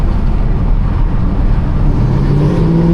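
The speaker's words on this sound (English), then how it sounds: "See if I can get y'all some quick pulls, just to see kind of like what it's like when I'm like driving and how the tires just spin out" A Chevrolet Camaro ZL1 on new tires pulls hard, its engine a loud, steady roar heard from inside that climbs in pitch toward the end as it accelerates, with no talking.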